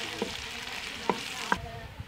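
Onions fry in hot ghee for chana aloo curry, a soft steady sizzle close by punctuated by three or four light clinks of a spoon against the pan, no talk.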